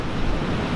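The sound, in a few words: large ocean waves coming in on rocky coast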